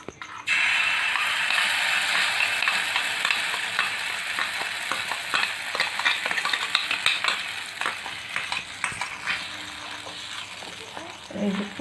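A small knob of butter sizzles on a hot tawa for a pancake-style breakfast, starting abruptly then settling into a dense, crackling fry with scattered ticks and faint clatter, close and steady throughout.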